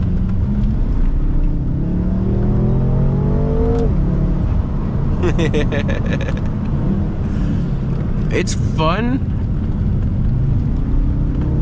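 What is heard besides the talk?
BMW M5 engine revving while drifting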